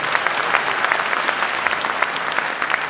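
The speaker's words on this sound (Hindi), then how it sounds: "जोर से ताली बजाओ।" An audience at a national memorial lecture series claps in steady, dense applause that fills the room throughout, with no voices over it.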